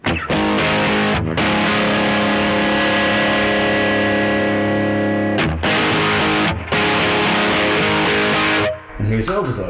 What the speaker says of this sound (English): And here's overdrive.